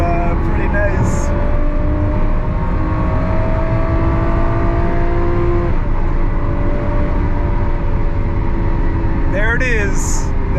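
A Lamborghini Aventador SVJ engine rumbles and burbles steadily up close while being warmed up, a deep, continuous exhaust drone that stays loud throughout.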